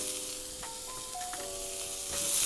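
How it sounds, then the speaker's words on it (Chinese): Onion, celery and carrot frying in leftover meatball oil in a pot, a steady low sizzle with soft stirring scrapes and a few brief tonal squeaks, alone without voices. "就直接来炒这个时蔬"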